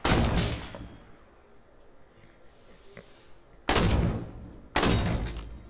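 Gunfire in the video game Fortnite: three loud, sharp shots, one at the start and two more close together near the end, with quieter game ambience between them.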